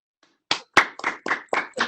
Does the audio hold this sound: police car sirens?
no